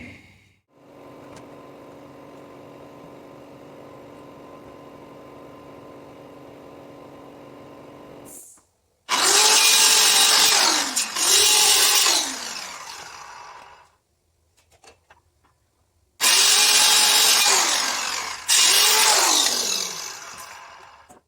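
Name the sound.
sawing a notch in a wooden wall bottom plate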